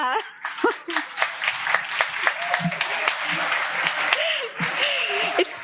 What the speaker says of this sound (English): it's really nice that you're applauding me